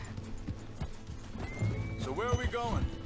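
Horse whinnies loudly in Red Dead Redemption 2, a rising then falling neigh in the last second, over steady hoofbeats and game ambience with a voice talking underneath.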